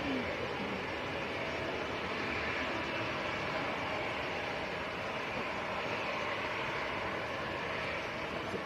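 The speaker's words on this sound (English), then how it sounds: "PC-24, that is Silver Aviations, that is based here" A Pilatus PC-24 jet of Silver Aviation arrives at Manchester Airport on a windy day, heard as a continuous broad, airy roar at moderate distance that holds steady throughout with gusty wind noise.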